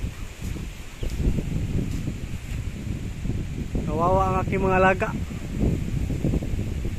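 Strong habagat monsoon wind roaring behind a house, constant low buffeting and rushing noise, with someone speaking briefly over it midway.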